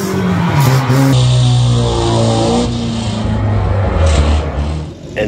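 A monster truck engine roars loud and close at a motor show, its revving pitch rising and falling as the truck launches over another truck, with crowd noise underneath and a scraping hit near the end.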